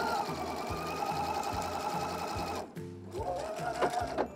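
A sewing machine stitches a straight fabric seam with a fast, even mechanical whirr for about two and a half seconds, then stops, followed by quieter handling noises nearby.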